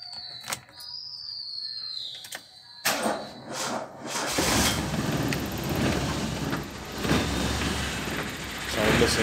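A Suzuki Khyber car engine cranks and starts, then settles into a steady, fairly loud idle. Some brief clicks and knocks come before it.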